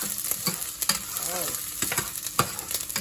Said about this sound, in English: I've got about 6-7 cloves of garlic that I'm going to add to some olive oil